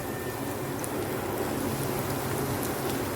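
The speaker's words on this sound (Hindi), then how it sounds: "यहाँ पर ऑयल गर्म हो चुका है। अब इसमें मैं ब्रेड डाल दूँगी" Bread slices fry in hot oil, a constant even crackle and sizzle that holds steady at moderate volume, with no voices.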